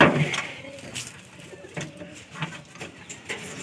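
A pigeon coos softly in a loft during hot weather, its low calls quiet and intermittent over faint background noise.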